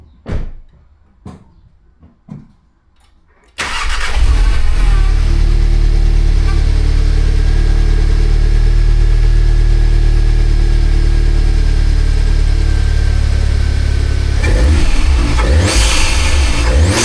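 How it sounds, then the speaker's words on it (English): An Audi S3 engine cranks and catches, then revs loudly and holds a steady roar before dropping and revving again; a few thumps come just before it starts. "we'll give it a little fire up and we can see if we can hear any intake noises"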